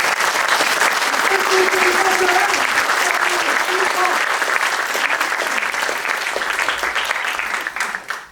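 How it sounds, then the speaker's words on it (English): An audience at a Left Forum panel on W.E.B. Du Bois applauds the panelists with steady, loud, sustained clapping that fills the room and fades at the end, with faint voices underneath. "let's give them a round of applause"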